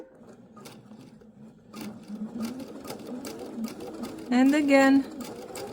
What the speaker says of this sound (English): I'm going to stitch all the way to the other side